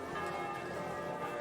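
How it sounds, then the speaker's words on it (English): Church bells ring at noon in a medieval town in Kingdom Come Deliverance 2, a sustained resonant chiming that holds steady over a short stretch without breaks. "It's noon now with the bells ringing"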